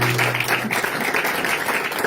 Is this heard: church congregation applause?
yes